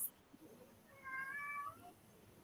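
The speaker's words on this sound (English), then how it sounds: "you can hear my cat meowing" A pet cat gives a single drawn-out meow indoors, clear and fairly close against quiet room noise, with no talking over it.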